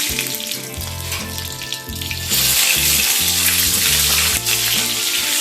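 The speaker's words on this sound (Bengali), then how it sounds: "ডিমগুলোকে হালকা করে একটু ফ্রাই করে নেব।" Eggs sizzle and spit in white oil in a wok, a steady loud crackle that stays dense throughout with no voices.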